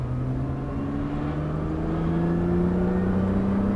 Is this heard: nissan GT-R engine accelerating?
yes